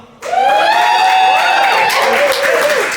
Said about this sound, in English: Folks who won the first round, cheer for Talal.